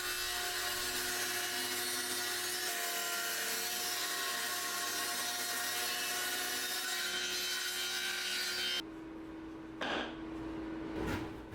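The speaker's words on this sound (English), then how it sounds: "So I can get that ripped down on the table saw." A table saw rips wooden posts into strips for garden planters, the blade whining and grinding loudly through the wood for several seconds before the cut ends and the motor spins on more quietly.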